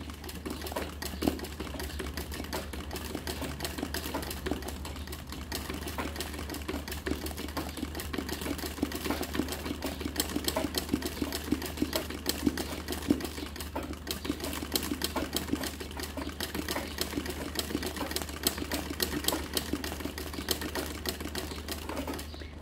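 An embroidery sewing machine runs steadily while stitching the letter O, a continuous fast mechanical rattle with a low motor hum underneath, sounding close and constant throughout without any voices.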